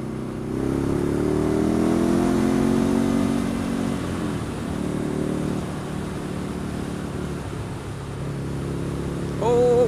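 Ducati Scrambler motorcycle riding on the road, a steady medium engine drone with shifting pitch and wind rush throughout, rising slightly at the end.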